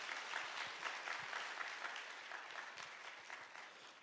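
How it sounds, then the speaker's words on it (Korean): A church congregation claps to welcome a visiting youth pastor, with dense, even applause that holds steady and tapers slightly toward the end, heard at a moderate distance. "우리 한번 박수로 모시겠습니다."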